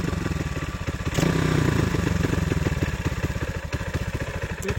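A YCF dirt bike with a Keihin PE 28 carburetor runs at a fast, choppy idle, then blips briefly higher before settling back into a steady pulsing beat, close and loud with no talking.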